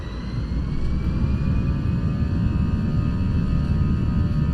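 Simulated Toliss A319 jet engines at takeoff thrust in X-Plane 12, a loud, steady roar with deep rumble and a faint high whine, sustained throughout without talk.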